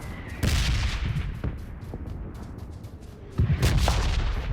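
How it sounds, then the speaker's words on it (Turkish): Bursts of gunfire in the video game PUBG Lite, heavy booming shots in quick clusters, with a steady rumbling background between volleys. "Sağımıza silah sesleri. Hemen sağımıza"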